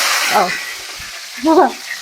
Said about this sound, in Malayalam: കറിവേപ്പില ഇടണം.